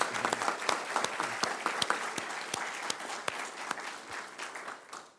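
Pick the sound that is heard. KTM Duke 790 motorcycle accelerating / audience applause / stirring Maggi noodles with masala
audience applause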